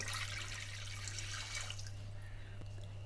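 Water pours into rice in a cooking pot for paneer biryani. The splashing stream runs steadily up close, then thins and fades near the end.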